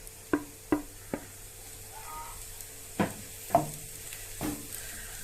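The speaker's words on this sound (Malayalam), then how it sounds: "കിഴങ്ങൊന്ന് ചേർത്ത് നന്നായിട്ട് ഇളക്കാം" Mashed potato being stirred into a bonda filling in a pan, with a few sharp spoon knocks against the pan at the start, then softer scraping strokes and faint sizzling, close and quiet.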